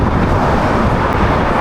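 Strong crosswind buffeting a rider on a Cervelo Aspero-5 bicycle, a loud continuous roar of wind across the microphone throughout the short stretch.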